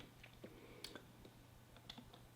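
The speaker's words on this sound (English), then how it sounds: "This is going to be a lot of just typing here" Quiet, irregular keyboard typing with scattered key clicks, close by, over a faint steady hum.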